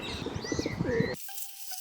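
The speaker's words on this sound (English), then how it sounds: "Pigeons." Pigeons in a park coo in low, repeated pulses mixed with small bird chirps nearby, then the scene drops to a quieter stretch with faint tonal calls.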